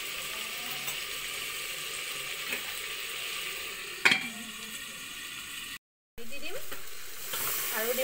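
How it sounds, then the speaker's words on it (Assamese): Chicken sizzles steadily in hot oil in a pressure cooker, a constant crackling hiss with a sharp clink partway through and a brief gap near the end. "অলপ টাইম ফ্ৰাই কৰিবলৈ দিম"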